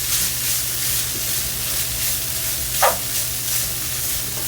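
Garlic paste sizzling in a pan for fajitas, a steady close hiss of frying with one short brighter crackle partway through, with no voices.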